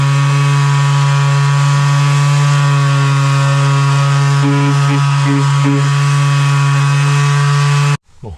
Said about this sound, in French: maintenant je vais utiliser ma ponceuse, là, la DB0